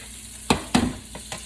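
Onion sizzling in a pan with bacon fat for braised Brussels sprouts: steady frying hiss broken by several sharp crackling bursts as the pieces are stirred, close and alone.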